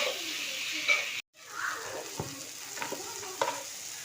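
Tomatoes and green chilies sizzle in a pan while a utensil stirs and scrapes, a soft steady frying hiss broken by a brief silent cut and a few clinks.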